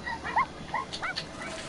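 Dogs whimper and give short yips behind a locked restroom door, high thin cries coming in quick bursts at moderate distance.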